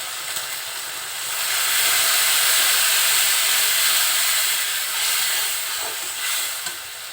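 Spice paste of salt, turmeric and cumin powder frying in a pan for a bitter gourd and taki fish curry, a steady broad hissing sizzle lasting throughout, swelling slightly louder in the middle, with no talk.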